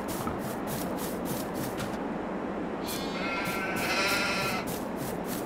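Sheep in the Farming Simulator 22 farm game bleat in a dense cluster of overlapping calls that continues throughout, with no one talking.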